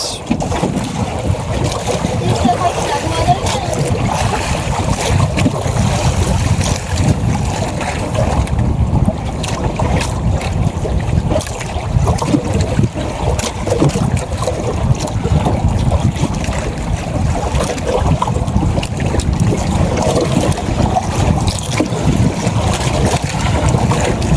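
Steady, heavy wind rumbles and buffets the microphone continuously on the water during a fishing trip, with a low roaring wash of noise throughout.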